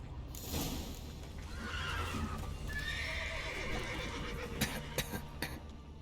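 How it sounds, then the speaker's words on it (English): Horses neigh and whinny repeatedly in a stable with a collapsed roof in the video game The Witcher 3, over a steady background din, with hoof clatter mixed in and a few sharp thuds near the end. "Horses!"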